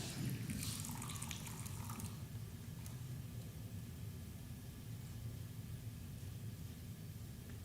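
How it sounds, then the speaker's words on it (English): Water in a Japanese tea ceremony, a soft, steady trickling hiss with a few brighter splashes near the start, faint and continuous throughout. "So it's the sound of water."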